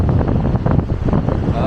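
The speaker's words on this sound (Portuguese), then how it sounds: "Olha o vento." Wind gusts buffet the microphone beside a wide river in a wild Chinese park, a steady close rumble with no speech.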